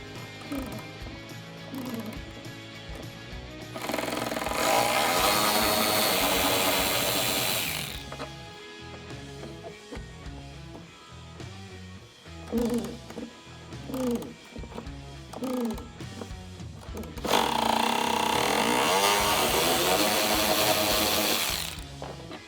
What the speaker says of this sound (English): take the slightly larger T25 Torx bit to loosen those up